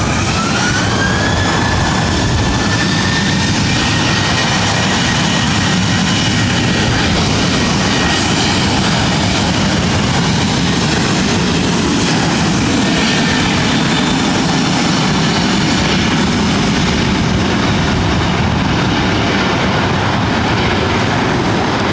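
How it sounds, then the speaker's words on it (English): Southwest Airlines Boeing 737-700 taking off, a loud, steady jet roar that fills the whole clip with a rising whine, with no voices over it. "This is Southwest Airlines 2528 taking off to St. Louis on a 737-700."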